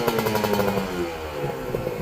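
A motorcycle with a standard engine and fresh piston revs up close, its exhaust beating in quick rhythmic pulses that settle into a rougher, uneven idle.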